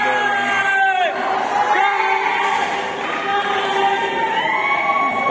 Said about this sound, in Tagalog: So ayan ang dami ng crowd no.